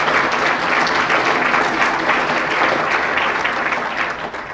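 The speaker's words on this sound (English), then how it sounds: "So a big round of applause for the people that volunteer to support us." A banquet audience at a chamber of commerce awards dinner gives thick, loud, sustained applause with no voices over it, fading slightly toward the end.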